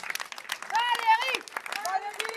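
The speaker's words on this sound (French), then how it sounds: "Faut aussi applaudir Valérie." Scattered applause from a theatre audience with rapid clapping runs throughout, while a high-pitched voice calls out over it.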